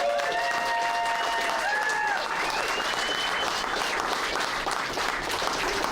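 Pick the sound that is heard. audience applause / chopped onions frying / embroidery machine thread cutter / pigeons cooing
audience applause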